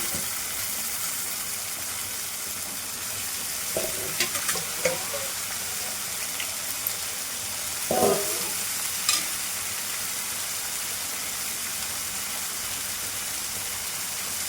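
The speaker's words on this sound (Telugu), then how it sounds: "ఇప్పుడు క్యాలీఫ్లవర్ వేసుకుందాం" Cauliflower fries in a pan for a cauliflower and peas curry, under a steady sizzle and hiss with a few scraping stirs and knocks from the utensil, and no voices.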